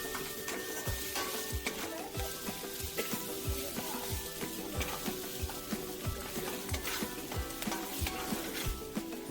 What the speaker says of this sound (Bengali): পেঁয়াজ কুচিগুলোকে বেশ নরম করে ভাজতে হবে।